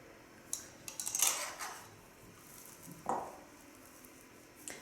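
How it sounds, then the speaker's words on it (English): A masher working through 1 kilogram of boiled potatoes in a pot, with a few metallic scrapes and clanks and soft squishing, brief bursts separated by quiet pauses. "I have 1 kilogram of boiled potatoes I need to mash"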